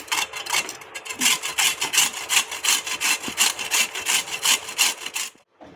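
Carrots are grated by hand on a metal grater, producing a rapid, regular series of about fifteen rasping scrapes that are close and clear and stop abruptly at the end, with no talking.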